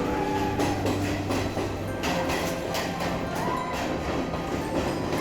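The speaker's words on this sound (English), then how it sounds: "This is the Podi Manike train going towards Denuwara railway station." The Podi Manike passenger train rumbles steadily toward Denuwara station near Nine Arches Bridge, Ella, Sri Lanka, with rhythmic clickety-clack from the wheels, loud and continuous, with a faint squeal in places.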